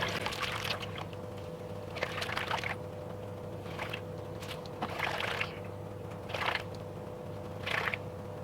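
Gold being panned in a small creek through a kitchen strainer, with water sloshing and pouring in about six separate bursts over a low, steady background hum.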